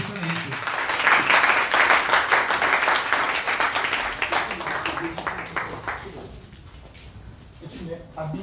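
A church congregation breaks into loud, sustained applause close by, a dense wash of clapping that swells, then thins and fades out, with voices underneath.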